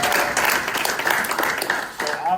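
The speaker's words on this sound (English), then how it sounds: "Let's give them a big round of applause." Audience applause for a basketball coaching staff at a talk in Greece, a brief burst of clapping from a crowd, fairly close and steady, with voices mixed in.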